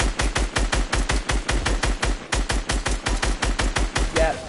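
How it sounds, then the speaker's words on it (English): Rapid automatic gunfire from a video game weapon shooting down a target, a steady stream of close, loud shots in quick rhythmic bursts that runs for several seconds with a brief pause midway. "Okay, now I'm gonna shoot it down"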